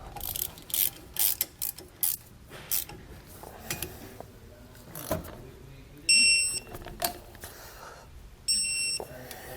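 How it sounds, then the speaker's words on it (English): A hand ratchet tightens the brake mounting bolts while a Kodiak disc brake kit goes onto a 2020 Jayco Pinnacle trailer. Close, quick bursts of clicking repeat through the stretch, with a couple of short electronic beeps later on. "Then we're going to tighten these up with our ratchet here."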